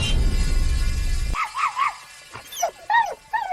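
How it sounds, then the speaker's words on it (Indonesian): A dog barks and yips in a series of sharp calls after a dull rumble cuts off, the barks coming close and loud in quick uneven bursts with short gaps between them. "Anjingku, Wang Chai, telah menggonggong sepanjang siang dan malam."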